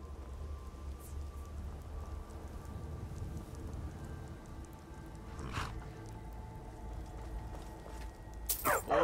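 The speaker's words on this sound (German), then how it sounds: "Der Regen wird aufhören. Das tut er immer." Rain falls steadily in the video game Skyrim, a soft continuous low hiss with a few faint drips and brief sharp sounds near the end, quiet and without voices.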